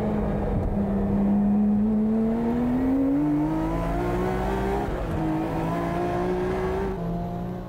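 Tuned Mine's Nissan Skyline R34 race car lapping a circuit, its engine note climbing steadily through gears with a brief shift dip, loud and continuous over a broad roar of track noise, with no talking.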